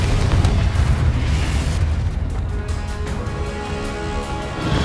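A Confringo blasting spell goes off in Hogwarts Legacy as a loud, booming explosion. Its rumble decays into a trail of crackling, popping bursts.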